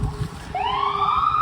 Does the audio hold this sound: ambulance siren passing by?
yes